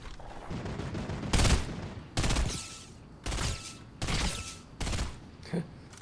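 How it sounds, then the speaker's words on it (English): Burst gunfire in the video game Fortnite: five or six loud, sharp bursts of shots at irregular intervals, each a short clustered volley separated by quieter gaps, with no talking. "Only hitting one shot out of the burst."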